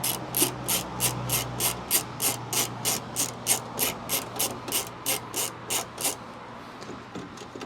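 A T27 Torx driver ratchets steadily while undoing the tailgate screws on a 2018 Ford Ranger PX2, giving a fast, even run of loud clicks close by for about six seconds before it stops.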